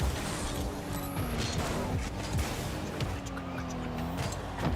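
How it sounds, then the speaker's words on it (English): Racing-game car engine drone with shifting pitch, creaks and tire-squeal-like skids, a steady mechanical hum carried continuously at moderate level with no talk over it. "What is this guy's engine noise?"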